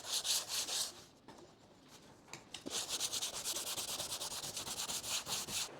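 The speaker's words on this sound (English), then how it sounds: "and then finish off with 500 grit on the DA" A dual-action sander with 500 grit working over a car bumper, a soft rhythmic scrubbing rasp that pauses briefly and then resumes in steady close strokes.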